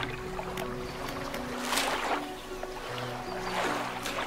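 A fishing boat in the video game Dredge cruises across the water, with a soft continuous wash of water and a low engine drone, moderately quiet and alone.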